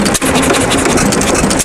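A 1922 Hercules 3 horsepower hit and miss gas engine runs close by in a brief, loud burst of chugging, with quick dips between strokes.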